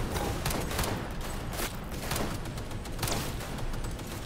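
Continuous gunfire from the video game Madpunk 2077, including an enemy's minigun: a dense, sustained barrage of rapid shots and noisy bursts filling the whole stretch with no pauses.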